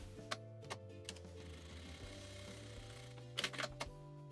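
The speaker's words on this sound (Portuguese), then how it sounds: "eu vou passar uma costura aqui na beirada" Sewing machine runs a steady mechanical stitch along a fabric edge for a baby document holder, a soft rhythmic whirring with a few sharper ticks, close and unaccompanied by speech.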